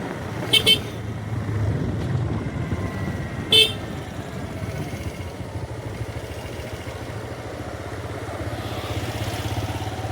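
Busy road traffic near a Datta temple in Mangaon, Malvan, with a steady engine rumble and short horn toots close by near the start and again a few seconds later.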